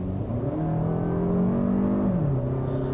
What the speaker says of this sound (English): The engine makes the typical Toyota noises. It's smooth. It revs